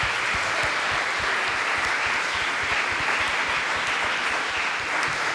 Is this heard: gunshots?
no